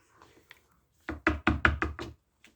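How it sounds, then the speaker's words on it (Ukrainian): Knuckles rapping on a table during a party guessing game, a quick run of about six close, solid knocks after a couple of faint taps, with a light tap at the end. "постукайте по столу"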